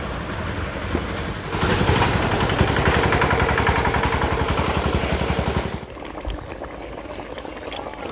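Japanese puti fish curry gravy bubbles at a rolling boil, a loud close churning that swells after a second and falls away sharply near the end, leaving quieter pops.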